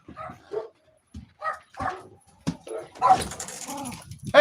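Dogs bark and yip in short bursts nearby, with a few whimpering notes, loud and intermittent against quiet gaps.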